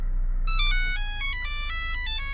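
A mobile phone plays a bright, repeating electronic ringtone melody from an incoming call, loud and close, with no voices.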